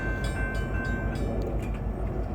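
A Union Pacific freight manifest train led by locomotive 8860 rolls slowly past the Baseline Road crossing, a steady dense rumble with faint rhythmic wheel clatter and a thin crossing-bell tone.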